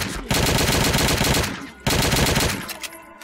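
Bursts of rapid automatic gunfire from the video game Blade of Agony, two long, loud, dense volleys separated by a short gap, heard close with no speech over them.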